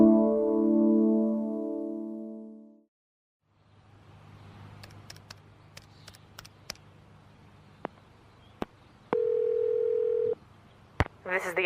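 A steady landline dial tone hums for about three seconds at the start of a collect call, then cuts out, leaving faint room noise, scattered clicks and a brief later tone.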